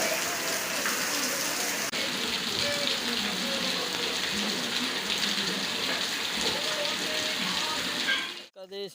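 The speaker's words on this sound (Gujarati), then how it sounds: "અત્યારે ધોધમાર વરસાદ ચાલુ છે." Heavy rain pours down in a steady, dense roar on a livestock farm, unbroken for most of the stretch before cutting off abruptly at the end.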